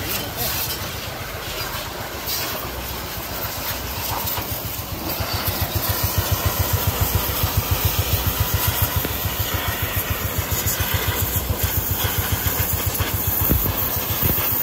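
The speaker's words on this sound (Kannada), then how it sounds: "ಅದಕ್ಕೆ ಗಾಡಿ ರನ್ನಿಂಗಲ್ಲೇ ಇಟ್ಟಿರ್ತೀನಿ" A motorcycle engine idles during a chain cleaning, a steady close chugging putter that grows more rhythmic and pronounced partway through, with faint workshop noise around it.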